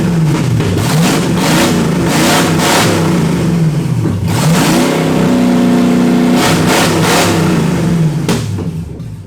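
A V8 go kart engine runs with the choke on, loud and close, revving up and down in repeated swells over a rough, throbbing idle, with no talking.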